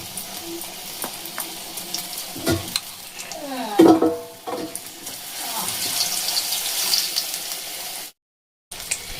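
Cauliflower pakoras frying in smoking-hot oil, a bubbling sizzle that rises and spreads after a splashy clatter midway, steady and close before a brief cut to silence.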